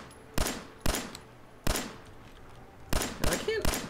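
Gunfire in Fallout 4, six sharp close shots in irregular succession, separated by short gaps with a faint background hum and a small electronic chirp near the end.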